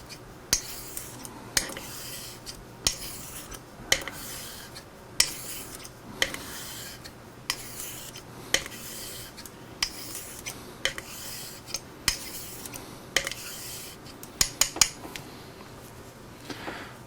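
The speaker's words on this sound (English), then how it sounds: "be consistent with your pressure across the length of the blade as you're pushing and pulling the razor" A straight razor is honed back and forth on a Shapton glass stone, making a rhythmic, close rasping scrape with a sharp clink at the end of each stroke that repeats steadily and is heard with no talk.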